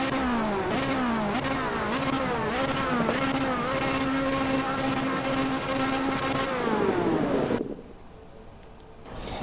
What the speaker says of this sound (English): I was hearing the engine noise after I paused the game.